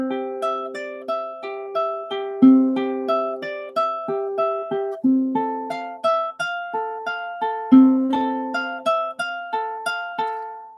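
A ukulele plays a Bach arrangement in linear tuning, a clean, close melody of plucked notes at an even, flowing pace with ringing overlapping tones, played solo with no talking.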